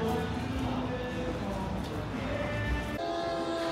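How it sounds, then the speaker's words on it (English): A small model train runs with a steady rumble and faint rail clatter, a constant mechanical hum under background chatter in an indoor casino basement room. "This train's down here."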